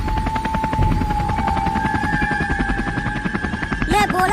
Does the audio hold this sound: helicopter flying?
yes